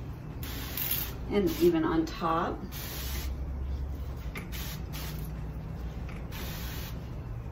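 A spray bottle misting garden plants to treat aphids, broad hissy bursts of spray running under a voice talking, fairly close and steady.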